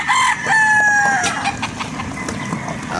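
A gamecock battle stag at a game farm in Batangas crows loudly and close, one long drawn-out call that tails off into quieter farm noise.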